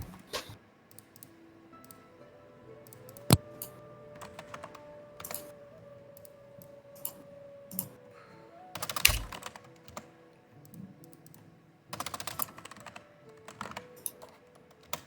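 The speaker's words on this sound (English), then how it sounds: "Is my mic picking up my mouse clicks as well?" Computer mouse clicks and keyboard clatter picked up by a desk microphone during an online tabletop role-playing session, scattered sharp clicks in irregular bursts, close and moderately loud over a faint steady background hum.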